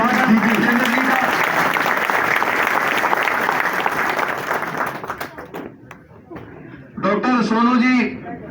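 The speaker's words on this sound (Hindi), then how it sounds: "तालियों से जोरदार जितेंद्र जी का।" Loud, dense applause from a political rally audience welcoming Jitendra on stage, sustained for about five seconds before fading, then a voice speaks over a brief burst of renewed clapping.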